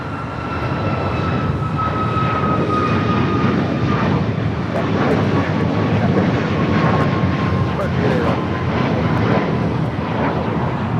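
A Delta airliner takes off from runway 25 right at LAX, a loud, steady jet engine roar with a high whine holding throughout, and a voice faintly over it.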